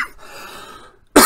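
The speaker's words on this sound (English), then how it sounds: "Sorry for all the coughing, guys." A single sharp cough bursts out close and loud at the end, after a second of faint hum.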